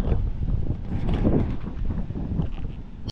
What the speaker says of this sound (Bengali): সমুদ্রের কিন্তু প্রবল গর্জন শোনা যাচ্ছে এখানে, জোয়ার আসছে